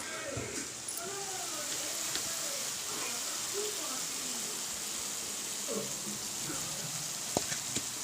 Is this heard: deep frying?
yes